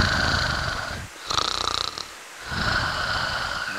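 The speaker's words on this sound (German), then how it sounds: "Oh Mann, jetzt schnarcht er wieder." Loud, steady snoring from a small Digimon, Koromon, in the video game Digimon, heard close as two long rasping breaths separated by a brief pause with snorting sounds.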